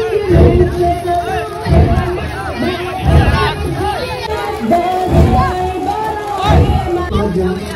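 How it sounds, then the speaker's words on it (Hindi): Dense crowd hubbub at a Muharram procession in Gwalior, many voices chattering and calling out at once, with repeated low rhythmic thuds that could be drumming, loud and close, continuing throughout. "चलो अब देखना चिप्स के साथ अब कैसी भीड़ आती है।"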